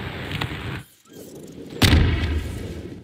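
Explosions and booms during a round of Garry's Mod Murder on the Fishdocks map, a short burst early, then a heavy low thud near the middle that rumbles on loudly.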